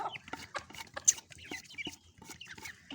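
Chicks and ducklings close by while eating, a busy scatter of short soft clucks and peeps with occasional pecking sounds, no talking.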